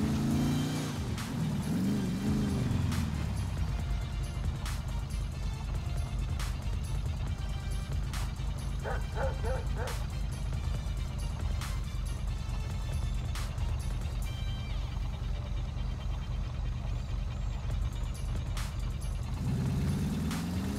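Cars driving in GTA 5 give a steady, loud engine drone with road noise that holds throughout. A faint voice is heard at the start and end.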